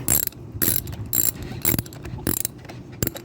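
A hand ratchet wrench tightens the nuts on a car battery's terminals: about six quick, crisp bursts of clicking, close up and sharp, separated by short pauses with no talk.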